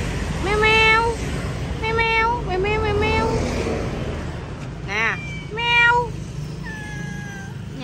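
Abandoned kittens meow repeatedly in high, drawn-out cries, several calls in bursts close by, with voices around them.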